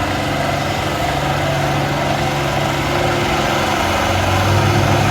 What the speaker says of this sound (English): Got the 560 diesel with the factory turbos set up on it.